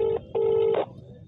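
Telephone ringback tones on a phone line: two steady electronic beeps separated by a short gap, loud and close, followed by a fainter trailing tail.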